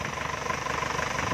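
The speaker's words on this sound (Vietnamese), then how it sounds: "máy nổ cực êm luôn." A 2005 Isuzu Hi-Lander pickup truck idles with a smooth, steady, even rumble at moderate volume that holds constant, and no one talks over it.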